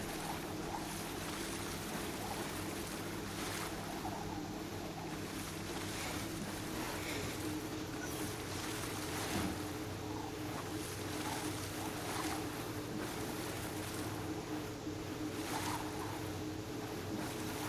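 Steady wash of a boat moving across water in Watch Dogs 2, continuous low engine rumble and hiss of waves and wind at an even level for the whole stretch, no talk.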